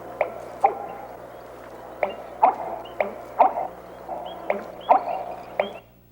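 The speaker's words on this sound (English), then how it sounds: "The bird is a member of the heron family and can be found in North America and Eurasia" A bittern, a heron-family bird, gives a repeated series of short, abrupt gulping calls at a fairly even hiccup-like rhythm, about ten in a row, moderately close against a quiet background hum.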